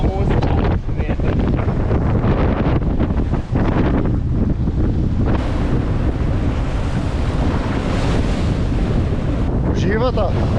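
Strong wind roars across the microphone at sea aboard a sailboat in the Caribbean near Guadeloupe, with waves and surf churning underneath in a steady, loud wash that barely lets up.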